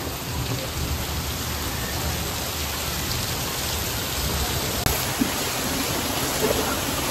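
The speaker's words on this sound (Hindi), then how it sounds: "देखिए कितनी तेज बारिश आई है" Heavy rain pours steadily on a house, a dense continuous wash of droplets close by, with a couple of faint knocks near the end and no talking.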